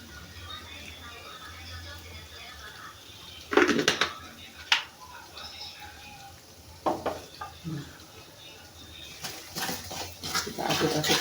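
Chicken gizzards and livers are stirred in a pan with salt and sugar, giving scattered bursts of utensil scraping and clattering against a faint sizzle and room noise, louder clusters coming and going.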